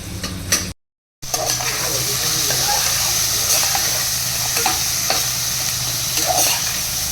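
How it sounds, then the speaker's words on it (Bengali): Onion fries with salt in a hot pan, giving a continuous loud sizzle with scraping stir strokes and a brief cut to silence near the start. "পেঁয়াজটা তাড়াতাড়ি করে ভেজে নিই"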